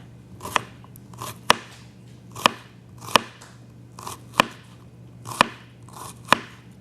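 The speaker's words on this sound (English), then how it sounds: "I'm going to chop this like this" Okra cut with a knife on a cutting board, about eight sharp, crisp chops at a slow, even pace, close by, with faint rustling between strokes.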